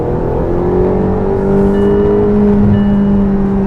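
Turbocharged engine of a 2022 McLaren GT revving steadily from inside the car, a loud, sustained drone with a rising whine held throughout.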